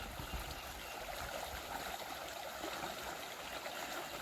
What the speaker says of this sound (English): Water comes literally out of the rocks there.